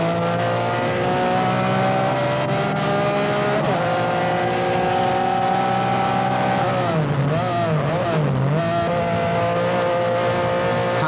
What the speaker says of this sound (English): Back in Tony Pond's car again, round the shell bend and onto the start-finish straight